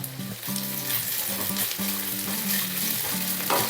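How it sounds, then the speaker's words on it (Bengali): Ginger-garlic paste for chicken tikka biryani fries in a pot, a steady sizzle with rhythmic scraping and knocking of a stirring spoon, close and moderately loud. "নেড়ে চেড়ে দু মিনিটের মতো ভেজে নেব"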